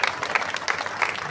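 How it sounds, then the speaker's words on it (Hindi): An audience at a gathering at Shadani Darbar claps to welcome guests, a brief, dense burst of crowd applause that is loud and continuous throughout. "एक बार जोर से ताली बजाएं"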